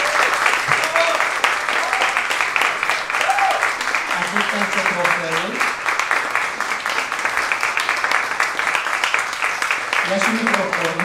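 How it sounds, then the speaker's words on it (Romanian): Audience applauding an award winner at a Romanian International Subtitling Day ceremony, a dense continuous roar of clapping held throughout, while a voice speaks intermittently over it and tonal music or cheering sounds weave through. "pe voi vă rog să aplaudați marele câștigător"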